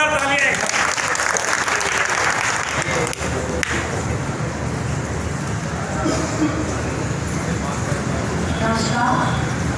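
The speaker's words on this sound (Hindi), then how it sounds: "जोरदार तालियां।" Loud, continuous applause with a rumbling crowd wash fills a hall at a Brahmin community honouring ceremony for newly elected municipal officials, sustained for nearly ten seconds without a break.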